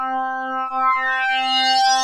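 One held note from the OB-X8 lead sync unison patch, oscillator sync engaged, its filter swept open by a knob so the tone grows steadily brighter and buzzier over two seconds, unaccompanied.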